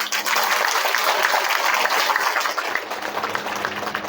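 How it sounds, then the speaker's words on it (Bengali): Large outdoor crowd at a political rally on a primary school ground applauding, a dense, continuous patter of many hands clapping at moderate loudness for several seconds, with no voices over it. "এই আইনটার জন্য আমরা একবার একটু হাততালি দেব"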